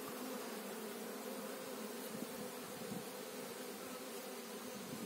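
Honeybees buzz around a queen at an open hive, a dense, steady, close hum of many insects that holds for the whole stretch without voices.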